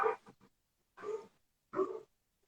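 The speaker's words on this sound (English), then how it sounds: "Sorry, my dogs are kind of going wild here." Dogs indoors give three short bursts of barking and whining yelps with brief silent gaps between them, close and fairly loud.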